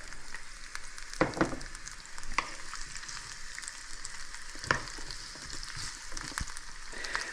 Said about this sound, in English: I just want to gently saute these peppers